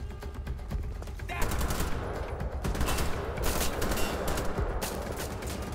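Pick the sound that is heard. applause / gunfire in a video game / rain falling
gunfire in a video game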